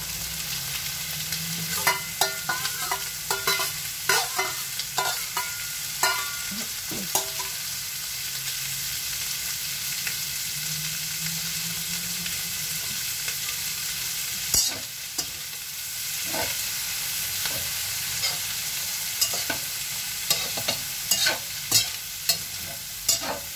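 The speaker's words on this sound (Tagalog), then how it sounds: "ready na ang ating hipon. Ilagyan naman natin ang ating gulay." Shrimp and vegetables stir-fried in oil in a pan, a constant close sizzle broken by frequent scraping and clacking of a spatula stirring the food, with no voices.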